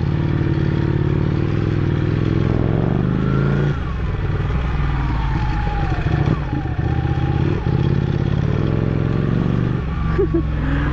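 A Ducati Panigale 899 sport motorcycle engine rumbles steadily while riding, with rising and falling revs, some clatter and scraping, and a voice talking over it.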